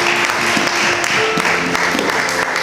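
A church congregation applauds, close and fairly loud clapping with distinct individual claps over a continuous murmur, and a voice and tones from a keyboard running underneath.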